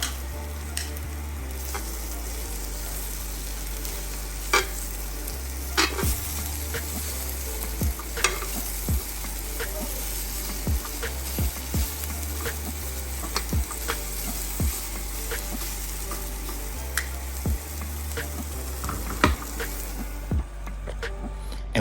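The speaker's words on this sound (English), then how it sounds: "And we're gonna saute that until they get soft, but not too soft." Vegetables sauté on a hot flat-top grill where skirt steaks were just cooked, giving a steady, close sizzle broken by frequent sharp scrapes and clacks of a spatula stirring and turning them.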